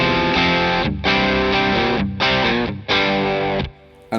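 Electric guitar played through a Wampler Paisley Deluxe overdrive pedal, channel one cascaded into channel two with the controls at noon: loud, thick distorted chords struck in three sustained bursts with short gaps, ending on a quieter fading tail.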